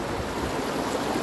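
A stream near a waterfall at San Mateo de Otao flows past rock formations, making a steady, close, full rushing sound that fills the whole moment without pause or voices.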